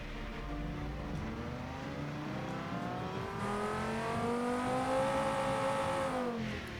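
A car engine in the Automation car-building game revs steadily upward over several seconds, pitch climbing smoothly to a high peak before cutting off, heard alone at moderate volume.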